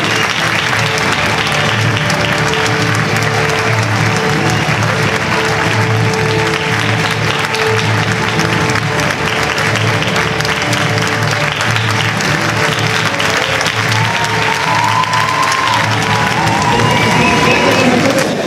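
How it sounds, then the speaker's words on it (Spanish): Sustained, loud applause from a full audience at a municipal sports awards gala in Mora, with faint cheering mixed in, steady and dense throughout. "¡Un fuerte aplauso!"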